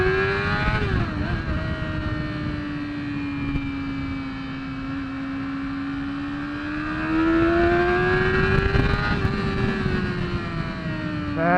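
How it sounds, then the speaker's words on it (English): Motorcycle in first gear revving high under hard acceleration then hard braking to warm the tires, a loud sustained engine tone rising and falling in pitch, heard close with wind noise. "Hard acceleration, hard braking."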